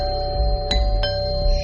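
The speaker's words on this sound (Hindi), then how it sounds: "तभी दरवाजे की घंटी बजी" A doorbell chimes in a horror story, a two-tone ding-dong ringing out clearly over a low background drone.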